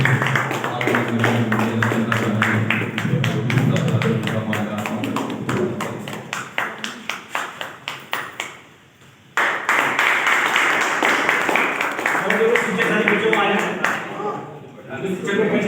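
Audience applause at a farewell ceremony honoring 42 years of service, with rapid claps under an announcer speaking on a microphone, a brief lull, then more clapping mixed with talk.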